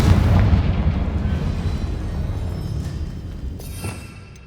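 Confringo spell in Hogwarts Legacy: one heavy explosive blast up close, its low rumble slowly fading over several seconds, with a faint crackle near the end.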